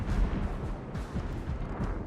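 A naval gun volley in a warship video game gives a rolling series of deep, booming shots that blend into a continuous low rumble, loud and close, with no voices.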